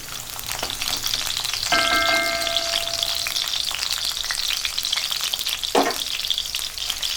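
Fifteen to twenty peeled shallots sauté in hot oil, producing a loud, continuous sizzle close by. There is occasional stirring, a brief ringing tone early on and a scrape near the end.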